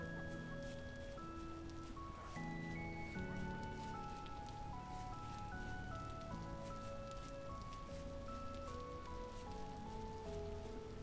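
Steady rain falls in the game Vintage Story, a constant soft patter filling the scene, with layered tonal music notes ringing over it throughout.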